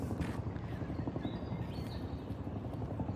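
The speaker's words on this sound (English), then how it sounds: "It could be the police helicopter." A police helicopter's rotor thumps steadily and loudly overhead, a continuous low throbbing rumble with no break.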